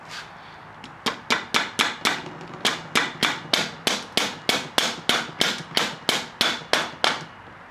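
A hammer strikes a bolt on the damper side of a Fox F-Series suspension fork during an oil change, giving about twenty sharp metallic taps in a steady, even rhythm, close up and alone.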